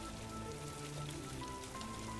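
Acid rain falls indoors in the Roblox game Radiant Residents as a steady, dense hiss of patter, constant and moderately loud with no voices over it.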